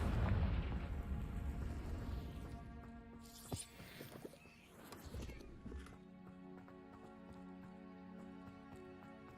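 A fiery blasting spell goes off in a wizard video game with a deep booming explosion and rumbling debris, followed by a quieter rumble and a ringing tone tail.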